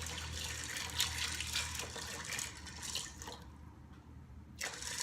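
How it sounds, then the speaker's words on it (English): Filtered water is poured over dry beans in the pot of a Ninja Foodi, giving a steady splashing, trickling flow that thins and breaks off briefly before a final splash. "cover them generously with filtered water"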